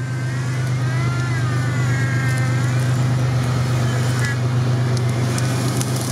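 An off-road vehicle in an off-road battle drives with a steady, loud engine drone close by. Voices can be heard faintly under the engine.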